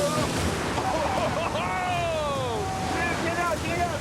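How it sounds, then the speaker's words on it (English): Strong wind and choking waves rock a boat in dangerous weather, a constant loud roar of wind buffeting the microphone with water sloshing, and faint whistling tones sliding through it. "It's rocking like crazy. The wind's blowing."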